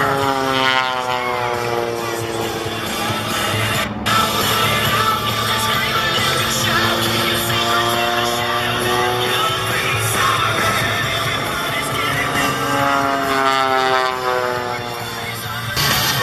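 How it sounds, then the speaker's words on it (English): A propeller aerobatic air show plane drones loudly overhead at Sun 'n Fun 2018, its engine pitch sweeping up and down as it swoops and passes, with crowd noise underneath. "Built strictly as an air show plane"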